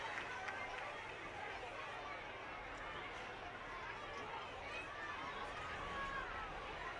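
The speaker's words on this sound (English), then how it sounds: "you can hear the crowd right in front of me" Crowd noise from a high school football game between Talawanda and Harrison, heard through open press box windows: a steady, distant wash of chatter and murmuring fans that holds at an even level throughout.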